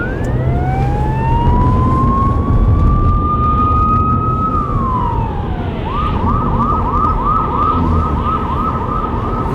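A phone ringtone imitating a police siren sweeps up and holds, then switches to a rapid repeating yelp, over a dense rumbling background.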